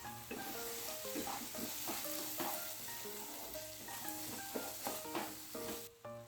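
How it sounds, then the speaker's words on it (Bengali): Yogurt being stirred into a frying spice masala for paneer chana masala: a continuous sizzle with busy, repeated scraping and stirring strokes throughout, close and steady, no voices. "দইটা ভালো করে মশলার সাথে মিশিয়ে নেব।"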